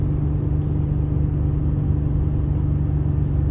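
A 2018 Ford F-150 engine under load, towing a 10,000 lb trailer up a 6% grade at about 45 mph and 3,000 RPM on roughly half throttle: a steady, loud, low drone with no breaks.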